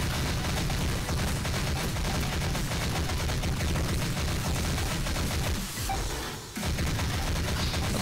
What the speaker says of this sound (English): Open fire on the aliens.